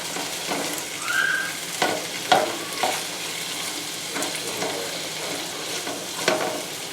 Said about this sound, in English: That's the name of the game when you're doing wok cooking or stir frying.